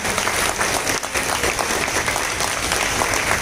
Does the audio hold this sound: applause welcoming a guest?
yes